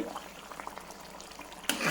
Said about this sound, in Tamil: கொதித்து வேகணும். தீயிலே வச்சு வேக விடுங்க, தண்ணி பசையெல்லாம் போகணும்.